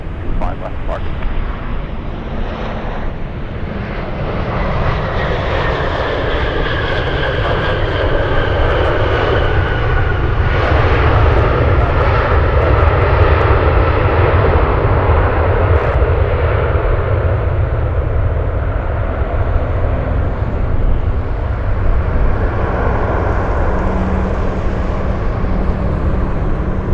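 Airliner jet engines roar at Anchorage airport, a broad rumbling wash that swells and holds for nearly half a minute, with a voice talking over it.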